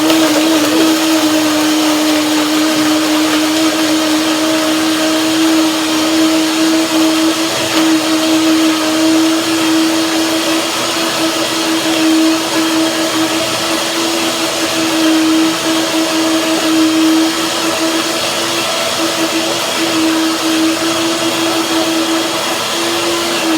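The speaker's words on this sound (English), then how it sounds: "From the sound of the blender" A loud, steady motor whine of a blender running continuously at high speed blending sesame seeds for tahini mayonnaise, with a constant pitched hum and no pauses.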